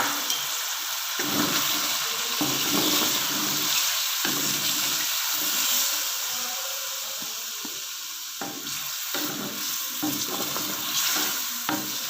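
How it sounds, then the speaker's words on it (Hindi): Chicken with yogurt fries in a pan for a korma, giving a steady loud sizzle throughout with occasional stirring scrapes and knocks, and no voices. "तो हम मज़ीद इसको भूनते हैं।"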